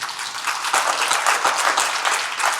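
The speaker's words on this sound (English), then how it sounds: "Can I get everybody to clap their hands?" A summit audience clapping their hands together in a dense, continuous burst of applause, loud and steady throughout with no speech over it.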